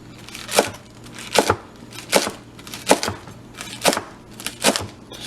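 A knife slicing rolled collard greens into thin strips on a cutting board, giving six evenly spaced crisp chopping strokes. Each stroke is a sharp close thud, with no talking.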